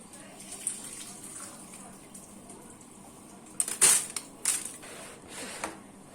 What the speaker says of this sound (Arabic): كده انا بعمل ايه؟ بصفي الميه بتاعته